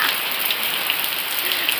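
Steady, dense hiss of heavy rain pattering on a hard surface, continuous and close with no voices.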